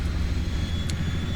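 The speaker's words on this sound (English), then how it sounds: "it sounds like it's still starting up the turbines" SH-60 Seahawk helicopter turbines spool up in a flight simulator game, a steady low rumble and whine droning continuously at moderate loudness with a faint high tone above.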